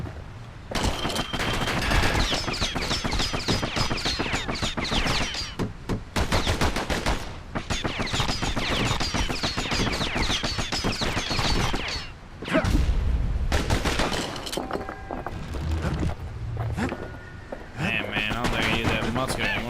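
Rapid gunfire from the guns in the video game Bastion crackles in dense, loud bursts over game music, with short gaps between volleys and a narrator's voice talking over parts of it.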